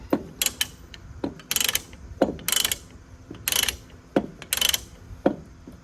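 An Acme-thread chain binder being tightened down on a hauling chain, a series of close, crisp ratcheting clicks in short irregular bursts with pauses between, no talking.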